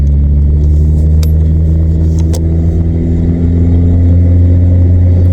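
Inside a VW Vento with a troublesome gearbox, the engine gives a loud, steady low rumble as it runs through a gear change, with a few faint clicks over the drone.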